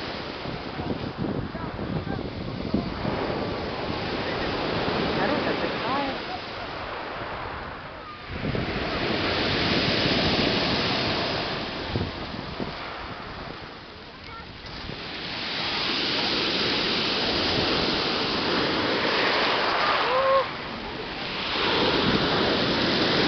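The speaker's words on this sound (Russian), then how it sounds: "Вот такое море." Sea waves roll onto the Antalya coast in Turkey, swelling and receding in repeated surges with wind buffeting the microphone, and a short voice appears near the end.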